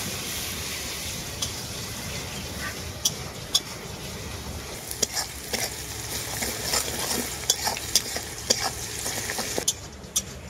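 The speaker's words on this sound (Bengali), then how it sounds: "খুব ভালো করে আদাটা ভেজে নেব আমি।" Crushed ginger sizzles steadily in a hot pan for vegetable khichuri, with scattered sharp clinks and scrapes of a spoon stirring through the close, continuous frying.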